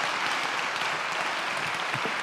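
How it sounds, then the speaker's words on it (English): An audience applauds a volunteer at a live hypnotherapy demonstration, a steady and fairly quiet wash of clapping heard from a distance, with no voices over it. "Let's give her a nice round of applause."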